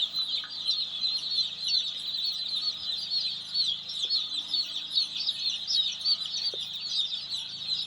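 Young chickens crowd inside a poultry brooder house on a farm, giving a constant dense chorus of high cheeping and chirping at close range with no voices.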